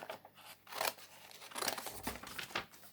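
Scissors snip through paper to cut out a paper planet for a kids' astronaut craft, several close, crisp cuts in irregular bursts.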